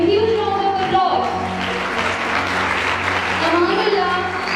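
Audience applause at a public speaking and Scrabble competition ceremony in Balochistan, a steady wash of clapping that holds for several seconds under a loud hall presence, with a sustained low hum beneath.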